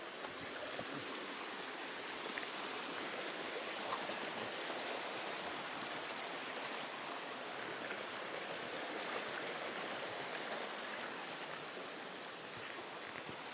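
A small river flowing near rice fields, a dense, even rush of water that holds steady and continuous throughout, fairly close, with no voices.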